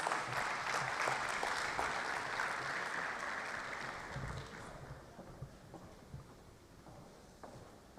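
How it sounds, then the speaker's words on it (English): Audience applause in a hall at a formal Lagos State electricity policy presentation, a dense steady clapping that fades gradually over several seconds, with a few scattered claps trailing off near the end. "deserves a better round of applause"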